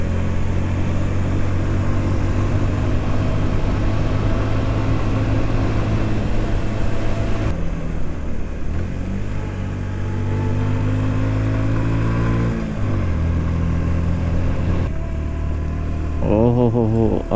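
A Suzuki GR 150 motorcycle engine labours up a steep, curving mountain road near Nathia Gali, droning loudly and steadily throughout, its pitch dipping and climbing with gear changes and rising sharply near the end.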